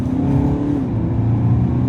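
Audi A5 Sportback with a 2.0 TDI diesel engine and S-tronic gearbox pulling hard under acceleration, a loud, steady close engine drone rising slightly in pitch.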